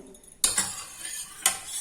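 A metal pressure cooker of boiled lentils clanks open up close, two sharp metallic knocks with light scraping between them.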